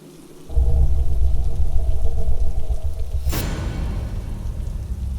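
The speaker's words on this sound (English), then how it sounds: "listening to the rain pouring outside" Steady heavy rain pours outside a cabin at night, a dense low roar that starts abruptly and holds loud and continuous, with a brief sharp burst partway through before the downpour settles back.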